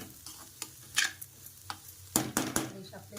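Potatoes frying with spices in a pan: a faint sizzle under irregular scrapes and clinks of a spoon against the pan, close up, with some quick strokes bunched near the end.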